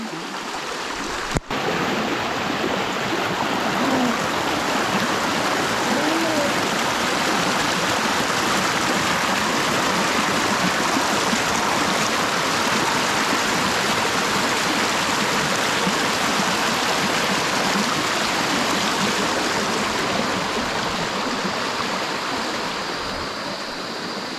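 A clean river stream flows steadily in a continuous, dense rushing wash of water, close and unbroken, with no voices over it.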